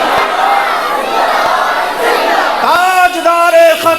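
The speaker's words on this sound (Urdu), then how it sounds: "ایک تاجدار ختم نبوت کا نعرہ ہے" A loud crowd in a mosque gathering roars the slogan Tajdar-e-Khatm-e-Nabuwat together. The massed voices hold a steady wall of chanting, then break into punchier repeated calls in the closing seconds.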